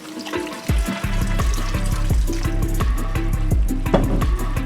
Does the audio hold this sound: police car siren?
no